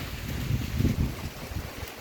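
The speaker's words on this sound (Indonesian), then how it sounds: "Karena ini ngeri ya anginnya ya." Strong wind gusts buffet the microphone outdoors beside a pond, a low rumbling roar that swells and fades over a couple of seconds.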